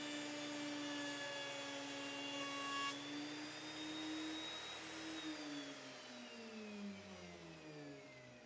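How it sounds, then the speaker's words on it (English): A FindBuyTool 13-inch benchtop planer with a helical cutter head feeds a board of curly-grain wood, a loud steady whine with shifting pitch that drops as the cut runs out, heard alone. "I'm just running it through the FindBuyTool planer"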